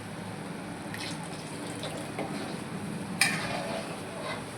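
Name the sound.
pouring water into chole curry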